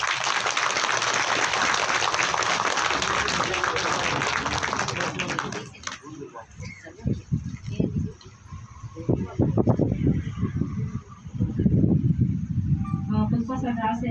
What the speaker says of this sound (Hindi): वो जोर से ताली बजाइए